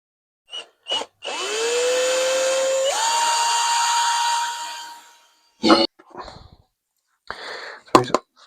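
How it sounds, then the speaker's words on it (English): Power drill boring through plastic on a Clodbuster RC truck part: the motor spins up with a rising whine, runs steadily at high pitch for about four seconds, then stops, followed by brief clicks and handling noises. "It's just plastic, so it shouldn't take too much to drill through."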